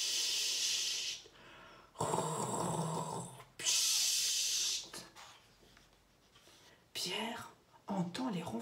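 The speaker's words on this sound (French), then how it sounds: "Pierre entend les ronflements." Slow, airy snoring breaths, several loud hissing inhales with quieter pauses between, close and in the clear.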